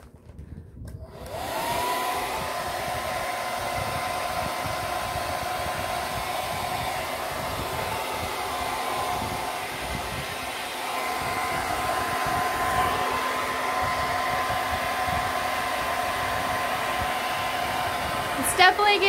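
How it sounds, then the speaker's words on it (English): A hair dryer with a bonnet attachment roars steadily and close by, a continuous loud whooshing hum that runs without pause from start to finish. "We got the hair dryer."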